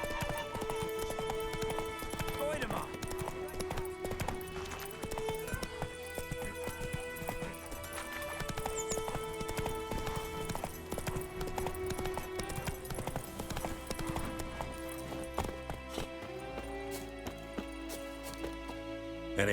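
Roach, the horse in The Witcher 3, clip-clops at a steady gait throughout, hoofbeats clear and regular beneath a layered game music score.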